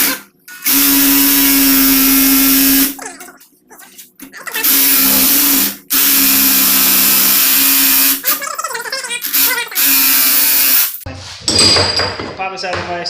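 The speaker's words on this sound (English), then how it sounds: "So I'm just gonna use a sawzall like a jigsaw and we'll see if it works." Reciprocating saw used like a jigsaw, cutting a metal pipe clamped in a vise: several loud, sustained buzzing cuts broken by short pauses, with a voice heard briefly between bursts.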